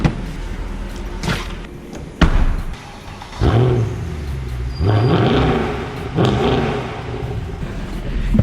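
A 6.2 litre car engine revs in several rising blips, with low rumbling swells between them, a sharp thump at the start, and near, fairly loud sound throughout.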